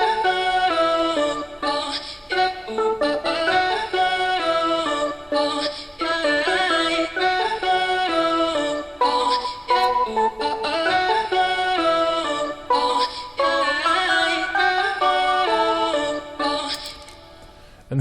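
Oil can guitar and orchestral flute from Omnisphere, joined by arcade-style vocals, play a dense, continuous commercial-pop passage for the whole stretch, loud and full, with rhythmic chopped phrases and no talking over it.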